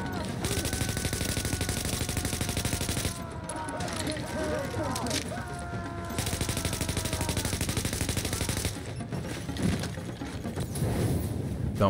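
Automatic weapon fire with heavy recoil in the video game The Division, played on Xbox Series X at the Hudson Refugee Camp. Loud, dense sustained bursts run nearly the whole time with brief pauses, over game music and effects.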